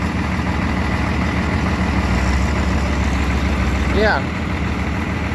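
A recently rebuilt engine idles steadily with a constant low rumble throughout, close and fairly loud, while a person speaks briefly over it.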